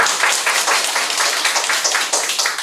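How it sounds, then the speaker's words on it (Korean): A congregation-style audience applauds Catholic Archbishop Milingo at a lecture: dense, steady clapping from many hands, loud and close, filling the whole stretch with no speech over it. "우리 가톨릭 밀린고 대주교를 위해서 그럼 박수 한번 보내주십니다"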